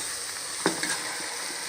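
Chicken pieces go into a pan of frying onions and tomatoes for biryani, giving a sharp sizzle burst and a few stirring scrapes over a constant hiss of frying.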